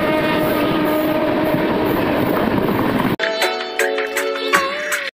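A 15232 Gondia–Barauni express train runs with a loud, steady rumble of wheels on rails for about three seconds. The roar then gives way to a quieter interior with tonal hums and sharp clicks.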